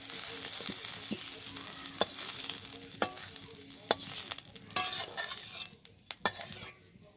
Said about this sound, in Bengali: দেখো এই ঢেঁড়সগুলো খুব ভালোভাবে ভেজে নিলাম, এবার এগুলো তুলে নিই।